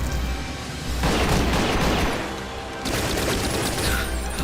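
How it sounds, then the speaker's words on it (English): Pipe bombs go off in two loud, rumbling blasts about two seconds apart, each a broad roaring burst that swells and then fades. "These pipe bombs have a much larger explosion radius than I expected them to"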